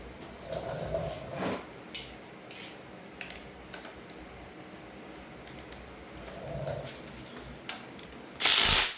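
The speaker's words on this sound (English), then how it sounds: "Now you do have to torque these bolts correctly." Ratcheting torque wrench clicks while tightening engine bolts during a Gen 3 LS engine swap into a 1986 Oldsmobile Cutlass, short bursts of mechanical clicking and metallic taps with pauses, ending in a loud rush of noise.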